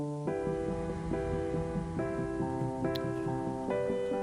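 The College GameDay theme plays, a full band arrangement with bright brass-like chords stepping through a punchy rising melody over steady drums, heard as continuous music at moderate level without speech.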